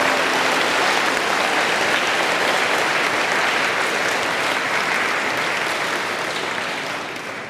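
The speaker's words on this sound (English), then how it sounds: "I want to give you all a massive round of applause to congratulate yourselves." Students at a school CPR training event give a long, loud round of applause, dense and sustained, tapering slightly at the end.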